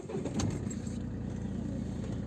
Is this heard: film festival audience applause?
no